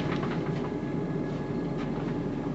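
Steady onboard rumble of a Chiltern Railways Class 168 diesel unit, 168003, running between Oxford Parkway and Oxford, a loud continuous drone with faint rhythmic rail clatter and no talking.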